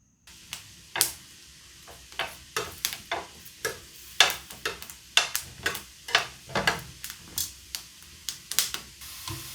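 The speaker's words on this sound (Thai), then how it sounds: "คั่วหอมกับกระเทียมให้สุกนะคะ อันนี้ป้าใช้เป็นหอมไทย กับกระเทียมจีนค่ะ" Thai shallots and Chinese garlic dry-roasting in a pan, giving a run of sharp dry crackles and pops at an uneven pace, close and fairly quiet, with no talking.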